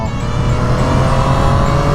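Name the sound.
three-cylinder motorcycle engine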